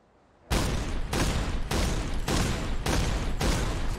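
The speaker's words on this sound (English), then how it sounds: "How about our flak gun?" A flak gun from a Fallout 4 heavy weapon mod fires a slow, steady series of six loud, heavy booming blasts at even intervals, each ending in a sustained roar, with no talking.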